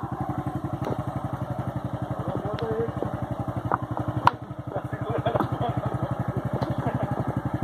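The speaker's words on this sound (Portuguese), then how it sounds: "A moto afoga na lama." A motorcycle engine chugs in a fast, steady pulse on a muddy trail through flooded forest, loud and close throughout with brief clanks and knocks over the running motor.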